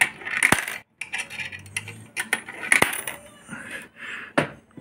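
Russian ruble coins, 11 rubles in total, dropping into the coin acceptor of a vending timer: a series of sharp metallic clinks and rattles spaced irregularly over a few seconds, close and clear with no voices.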